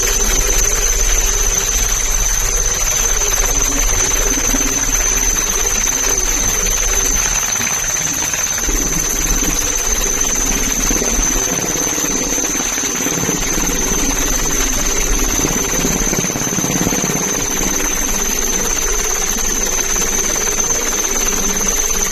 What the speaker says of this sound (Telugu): సముద్రంలో గల్లంతైన మిగతా 6 మత్స్యకారుల కోసం కోస్ట్ గార్డ్ నౌకలు, హెలికాప్టర్లు గాలింపు చర్యలను మరింత ముమ్మరం చేశాయి